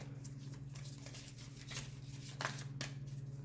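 A Moonology oracle card deck is shuffled by hand, giving soft, faint papery rustles and riffles over a low, steady hum.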